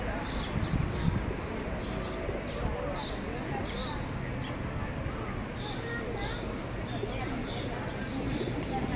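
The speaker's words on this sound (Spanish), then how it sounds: "Hay palomas" Pigeons coo softly in repeated low calls beside the Canal Imperial, set against steady outdoor background noise and people talking nearby.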